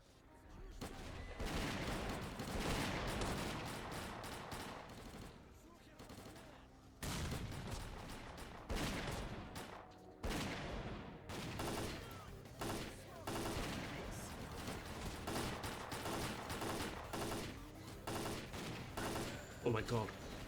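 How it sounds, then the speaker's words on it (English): Dense bursts of automatic gunfire and single shots crackle through a firefight in S.T.A.L.K.E.R.: Clear Sky, loud and nearly continuous with brief pauses, the volleys overlapping from several shooters. "What are they shooting at?"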